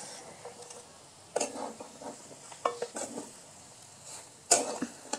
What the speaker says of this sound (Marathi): भाजी आता कढईमध्ये टाकून देऊ.